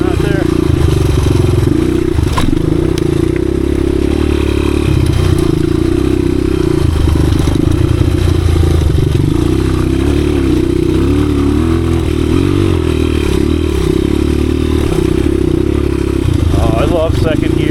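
A 1986 Honda XR200R dirt bike rides in low gears through tight woods, its engine loud and close throughout with rising and falling revs and clattering over rough ground while a rider talks over it.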